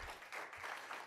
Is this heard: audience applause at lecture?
yes